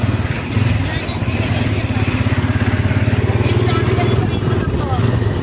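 A motorcycle engine runs steadily nearby with a low, continuous puttering throb, while people talk over it.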